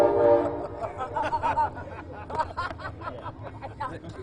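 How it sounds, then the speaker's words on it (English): A train passes close to a city warehouse district, a steady rumbling roar with horn-like tones rising and falling over several seconds. "There's her favorite train going by right now as we're speaking"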